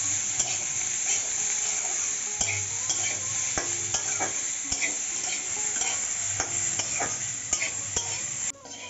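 Broccoli and vegetables with a little turmeric sizzle in a hot wok while a utensil stirs and scrapes them in irregular strokes, close and steady with no talking.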